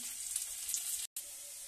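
Spices for a Bengali spinach curry tempering sizzle softly in hot oil, a steady faint crackle with a brief dropout near the end.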